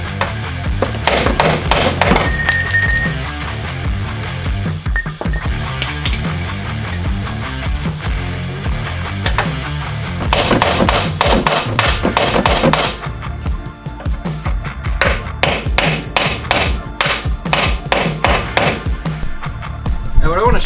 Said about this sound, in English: The other thing we can do is try to break them free with that chisel that I had.